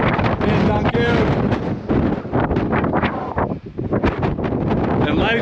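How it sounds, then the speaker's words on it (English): Heavy wind buffets the microphone in loud, roaring gusts, blustery and continuous with brief dips, on a mountain peak in the Grampians National Park, Australia. "It's pretty windy over here"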